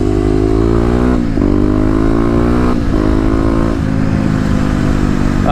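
Kawasaki KLX250 motorcycle with a 13-tooth front sprocket and stage 1 mods (header, slip-on exhaust, fuel controller, snorkel) riding hard, its engine loud and close, droning steadily and rising through revs, briefly dipping at each gear change.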